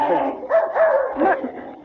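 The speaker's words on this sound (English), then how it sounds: "I hear a dog." A dog barks in an old-time radio sound effect, a quick run of three or four close, yappy barks in a row.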